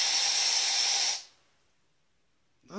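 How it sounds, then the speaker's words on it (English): An aerosol can sprays a spider in one loud, steady hiss lasting about a second, then cuts off into near silence before a voice begins. "How much spray can I put on this one thing?"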